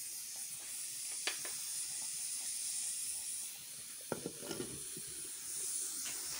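Rice cooking with saffron in plenty of water in a pot comes to a boil, giving a steady close hiss with faint bubbling and a few soft clicks and knocks.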